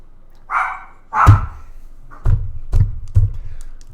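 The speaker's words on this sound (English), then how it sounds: "Stop barking!" A household dog barks in a few sharp bursts while someone records a programming lesson, the early barks higher and airy, then three or four punchy, closely spaced low barks, loud and near.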